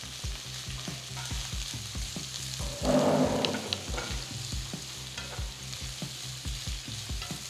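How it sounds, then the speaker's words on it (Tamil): Four medium sliced big onions sautéing in oil in a pan with whole spices for paneer biryani, a steady close sizzle and frying crackle with a brief louder burst of stirring midway. "4 மீடியம் சைஸ் பெரிய வெங்காயம் நீளமாக நறுக்கினது போட்டு வதக்குங்க."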